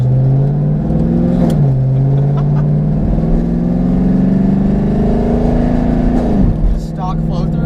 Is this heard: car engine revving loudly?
yes